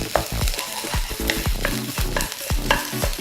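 Garlic and onion stir-fry in a hot pan, the loud sizzle broken by quick repeated scrapes and tosses of the spatula in a brisk rhythm, with no talking.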